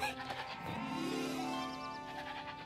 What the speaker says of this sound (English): A goat on a boat?